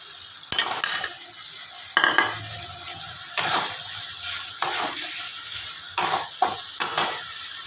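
Cauliflower florets frying in a pan, a constant sizzle punctuated by about six sharp scraping stirs and clacks of a spatula against the metal, close up and with no speech.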